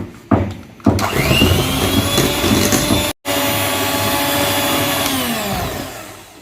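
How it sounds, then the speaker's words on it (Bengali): An electric beater whirs through lemon pound cake batter with a steady, loud motor drone close by, starting with short bursts, cutting out briefly midway, then running continuously to the end with no talk. "এখন এটাকে আমি আবার কিছুক্ষণ একটু বিট করে নেব"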